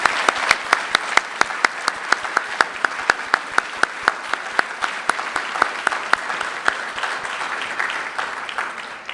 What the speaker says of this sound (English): please join me in applauding these very talented digital artists